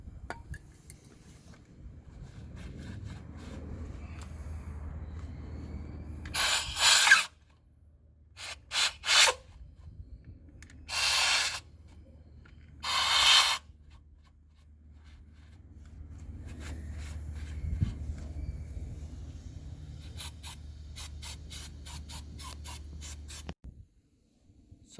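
Cleaning a semi truck axle hub before the shaft goes back in produces quiet rubbing and wiping sounds, broken by several short bursts of spray or hissing, with low background hum and no talk.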